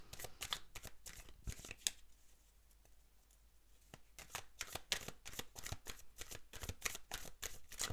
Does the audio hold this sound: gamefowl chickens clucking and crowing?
no